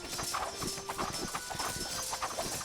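Horse hooves clip-clop in a quick, steady rhythm as horse units move across the battlefield in the fast-paced strategy game Circle Empires, with game ambience underneath.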